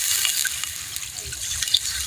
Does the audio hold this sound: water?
yes